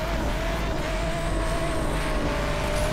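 Peugeot 9X8 race car engine in the racing game Asphalt 8, a steady loud high-revving drone with a constant pitch, heard alone.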